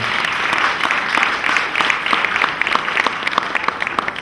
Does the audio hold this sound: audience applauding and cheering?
yes